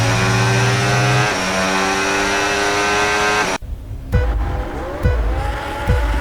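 Race start in the F1 26 racing video game, a loud pack of Formula 1 cars screaming at high revs, sweeping through gear changes and then passing close by in rising, falling whooshes.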